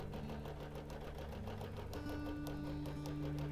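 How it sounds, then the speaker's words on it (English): A quilting sewing machine bastes across the bottom edge of a quilt, a quiet, steady mechanical whir with a continuous hum running unbroken throughout. "I'm just basting across that bottom edge."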